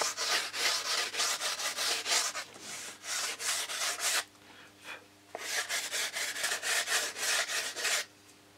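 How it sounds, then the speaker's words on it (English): Sandpaper wrapped on a stick rubbed along wooden model aircraft fuselage sides, a close, steady run of rasping back-and-forth strokes with a short quieter gap midway, no talking. "we just run a piece of sandpaper on a stick along so that both the sides are exactly the same"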